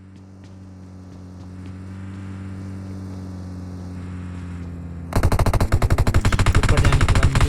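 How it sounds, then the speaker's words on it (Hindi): In the video game PUBG Mobile, a steady car engine drone hums for several seconds, then a loud burst of rapid automatic gunfire erupts and continues to the end. "मुझे पीछे से फायरिंग की और कार की आवाज़ आने लगती है"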